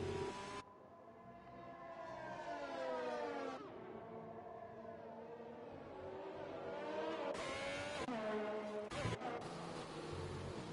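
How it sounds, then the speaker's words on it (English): F1 cars in the F1 2020 video game at the Great Britain circuit, a high-pitched engine whine that rises and falls through gear changes and revs, loud and continuous with sharp cuts between cars, no voices. "Jordy B with a new fastest lap for Mercedes."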